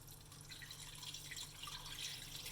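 Marinade from a small jug pours over beef in a slow cooker for barbacoa, a soft, steady, faint liquid trickle and splash with a low hum underneath, no talking.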